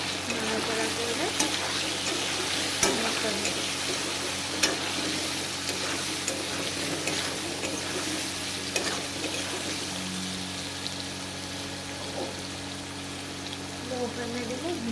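Lentil fritters and potatoes are stirred in a hot pan, a steady crackling sizzle of frying with occasional scraping clacks of a spatula, close and continuous throughout.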